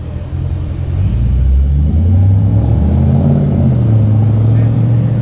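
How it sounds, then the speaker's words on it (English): A Jaguar XKR drives on India's only Formula One track. Its engine drones in a low, rising and falling tone as the car accelerates, a loud, steady rumble that builds after the first second. "we have the XKR going on track right now"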